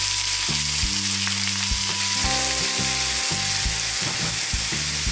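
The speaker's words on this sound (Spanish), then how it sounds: "Y cuando esté caliente, añadiremos 3 dientecitos de ajo y media cebolla" Three garlic cloves and half an onion fry in hot oil in a skillet with a steady, dense sizzle that runs through the whole stretch. A low hum and some stirring noise sit under it, and no one speaks.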